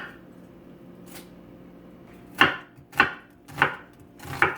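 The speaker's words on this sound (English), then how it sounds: "Just chopping up an onion." A knife chops through an onion on a cutting board in four sharp, evenly spaced thuds after a short quiet pause, close and crisp with a faint earlier tap.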